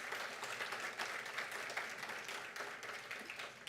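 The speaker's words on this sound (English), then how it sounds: "I think we can just give another round of applause to the speakers" Audience applause for the speakers at the opening session of a public health institutes' annual meeting, a steady dense clapping from a large hall that holds evenly for a few seconds.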